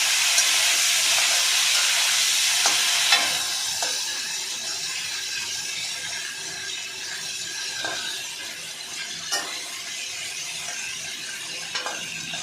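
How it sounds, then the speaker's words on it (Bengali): Chicken frying lightly in white oil in a pan gives off a steady, bright sizzling hiss, louder at first and then settling, with a few faint clicks and knocks of utensils. "চিকেনটাকে হালকা করে ভাজতে হবে"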